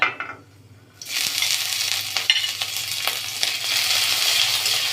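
Cumin, black mustard seeds and grated ginger frying in two spoons of mustard oil in a kadai give a steady, loud, close sizzle that bursts in after a quiet second and crackles on without pause.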